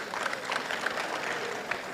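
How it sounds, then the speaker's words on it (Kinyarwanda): A church congregation claps in praise, a busy, fairly loud wash of many hands with a few sharper individual claps standing out, sustained across the moment without speech. "Komera Imana amashyi."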